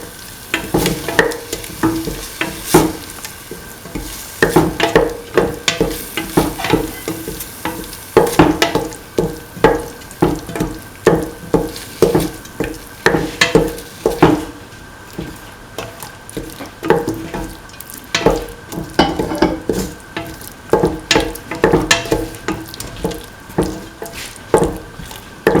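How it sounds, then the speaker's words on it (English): Cottage cheese stew mixture with mint and coconut milk is stirred and sautéed in a pan: steady close scraping strokes in an uneven rhythm over a continuous sizzle, with no talk. "Thoroughly saute mix."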